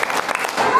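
Children clap in a rhythmic chant, several quick bursts of hand claps close by in a classroom group, mixed with young voices calling out.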